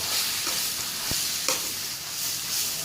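Pounded jackfruit salad is stir-fried in a pan, giving a loud, even sizzle with a few faint scrapes of stirring and no talk.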